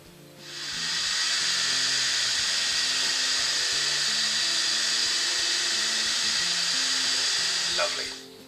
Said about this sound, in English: I might give it a little blast with the heat gun